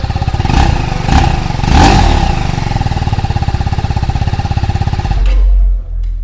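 A TVS Apache RTR 310 motorcycle, its engine still slightly cold, revs in three sharp bursts close to the mic, then settles into a loud, steady, throbbing run before it cuts off abruptly near the end, with no talking.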